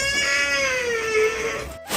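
A house cat meows for fried fish, one long drawn-out, wavering cry lasting nearly two seconds, close and loud, ending in a brief pause and a short fresh onset.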